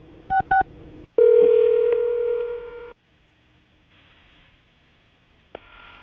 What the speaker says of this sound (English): I'll dial her phone number right now,